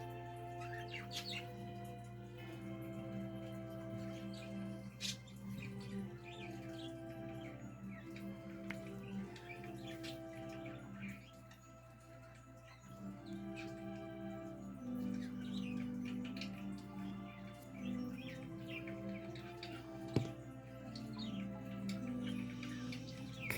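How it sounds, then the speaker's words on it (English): Small birds chirp and tweet intermittently in the background, faint and scattered over a low steady hum, with short bright calls recurring throughout the stretch. "The birds agree. Birds say you're right."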